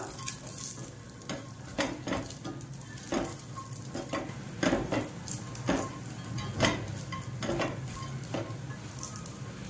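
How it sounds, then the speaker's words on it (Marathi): Walnuts are dry-roasted until crisp in a pan for a chocolate sweet, with a spatula scraping and stirring in an irregular rhythm over a soft, steady sizzle, close and clear. "याला पण असं खरपूस भाजायचंय चांगलं"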